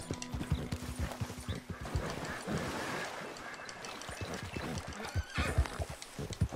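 Horse in Red Dead Redemption II galloping with steady clip-clop hoofbeats and a sharp neigh near the start, loud and close, with hooves continuing through the clip and no talking.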